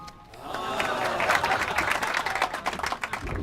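A crowd in the video game Blues and Bullets breaks into applause, a swelling wash of many hands clapping at mid distance that builds and continues, with a voice speaking over it.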